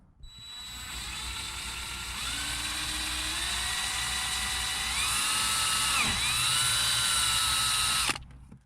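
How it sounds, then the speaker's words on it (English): A power drill bores a 3/16 hole into the dash of a 5th Gen TRD Toyota 4Runner, a continuous high whine shifting pitch as the bit cuts, then stopping abruptly after about eight seconds. "mark this hole and drill it with a 3/16"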